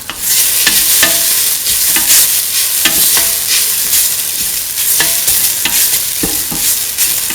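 Ground coconut spice mixture being stirred into a potato and green pea stew, with a steady loud sizzle and repeated scraping strokes of the spoon close by, no voices.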